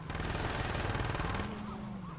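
Rapid automatic gunfire in the video game Saints Row, a loud, dense burst of shots that runs steadily before easing slightly near the end, with game noise mixed in.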